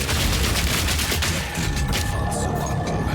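Steady rapid gunfire from armor-piercing rounds, fired by a run-and-gun Mercenary in Path of Exile 2, with continuous dense crackling bursts throughout and no talk.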